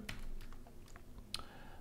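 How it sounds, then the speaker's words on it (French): A few quick keystrokes on a computer keyboard, short separate clicks heard close and fairly quiet over faint background hiss. "Alors on la copie, raccourci clavier CTRL-C."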